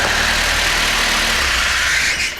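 A car engine idles at a steady speed after its idle mixture has been tuned, giving a continuous, even rumble with a light hiss on top, close by and loud, with no talk.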